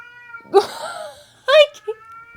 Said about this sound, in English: now the cats are fighting